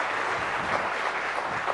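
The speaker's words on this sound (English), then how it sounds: "She deserves a bigger round of applause and welcome." Audience applause at the News18 Rising Bharat Summit 2024 welcoming Smriti Irani, a steady dense wash of clapping throughout, moderately loud with no clear individual claps.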